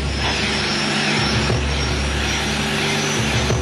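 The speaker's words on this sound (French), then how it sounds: "L'hélicoptère décolle et prend la direction de la plage de La Panne." A helicopter taking off toward the beach at La Panne, a loud steady rotor and engine drone that fills the whole stretch with a constant low thrum.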